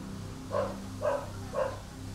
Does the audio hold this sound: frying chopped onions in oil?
no